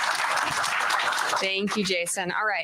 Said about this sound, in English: Big round of applause for Misty, guys.